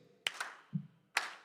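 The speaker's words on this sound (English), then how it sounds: "Now, if you feel like standing and clapping your hands," Three separate handclaps ring out quietly in a church service, spaced irregularly with brief silences between them and no talk over them.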